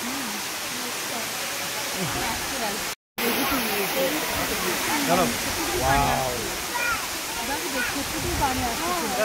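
Natural waterfall at Deogadh in Odisha, a steady broadband rush of falling water that runs continuously from start to end, with people talking over it throughout.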